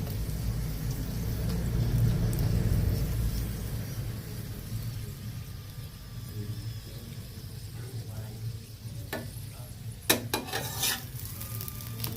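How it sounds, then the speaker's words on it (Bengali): A potato paratha fries in a pan with a steady low sizzle that fades slightly after the first few seconds, broken near the end by a few sharp clinks of utensils against the pan. "ভালো মতো পরোটাটা ভেজে নেব"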